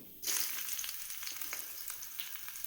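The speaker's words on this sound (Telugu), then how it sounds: "ఇప్పుడు తాలింపు వేసుకుందాం. ఆయిల్ వేసుకుందాం. చూడండి 4 వెల్లుల్లి రేఖలు" Garlic cloves hit hot oil for a tempering and break into a sudden loud, steady sizzle that crackles close by with no talking.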